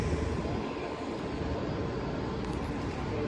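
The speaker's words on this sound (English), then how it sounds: "I hear an airplane." Airplane near an airport, a continuous moderate broadband roar with a low rumble, steady throughout and with no clear talk over it.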